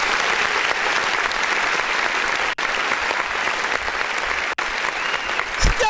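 Canned applause from a clap button on a music review show, a loud, continuous burst of crowd clapping lasting several seconds with two brief dropouts and a low thump at the very end.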